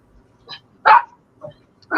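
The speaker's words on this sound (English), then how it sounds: "my dogs are saying that it was a good experiment" Dogs bark in several short, sharp yaps spaced a fraction of a second apart, close and fairly loud, with quiet gaps between them.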